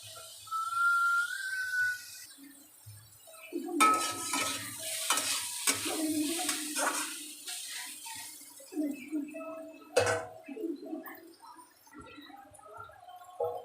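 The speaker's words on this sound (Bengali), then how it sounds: "ঢাকনা ছাড়াই 2-3 মিনিট একটুখানি ভালো করে ভেজে নেব" Ash gourd (chalkumra) fries uncovered in a pan with bursts of sizzling and scraping stirs that come and go, close and moderately loud, with short quiet gaps between.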